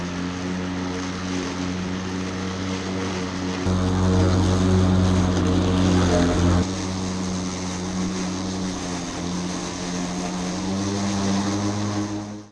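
An Ego 21-inch self-propelled electric lawn mower running steadily in a yard, a loud, constant motor-and-blade hum that swells briefly midway, with no talking.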